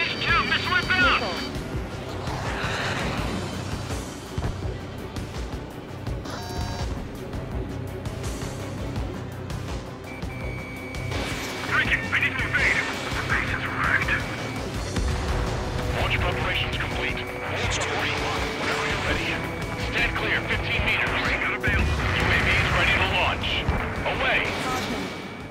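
Missile attack during jet combat in Ace Combat 7: Skies Unknown, with launches, streaking engine roar and booming detonations layered under radio chatter and voices calling warnings throughout.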